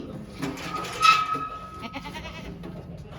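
Goats bleating on a goat farm, several calls rising over a busy outdoor background with a loud cry near the middle.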